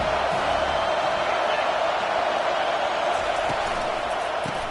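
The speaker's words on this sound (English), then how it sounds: "This crowd bringing the energy and noise early" Steady, dense crowd roar from a stadium in a Tennessee versus Vanderbilt college football video game, a constant wash of noise with faint scattered cheers and no clear voices on top.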